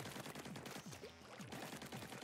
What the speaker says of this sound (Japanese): さあ、銃声が聞こえる。